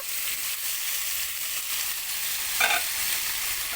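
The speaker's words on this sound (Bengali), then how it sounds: "এখন আমি সুন্দর মতো নাড়ব" Boiled papaya being stirred in a pan for Chinese-style vegetables, a steady frying hiss with soft scraping and one brief louder stir near the end.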